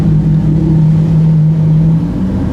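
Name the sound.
W Motors Fenyr supercar engine at Goodwood hill climb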